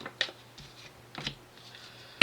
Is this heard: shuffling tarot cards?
yes